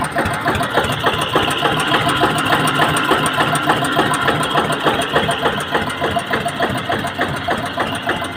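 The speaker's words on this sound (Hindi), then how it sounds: "ये देखिए इस समय स्टार्ट खड़ा है ट्रैक्टर" A tractor idles at a tractor market in Tanda, Sambhal district, its engine chugging steadily and loudly up close with an even, knocking rhythm throughout.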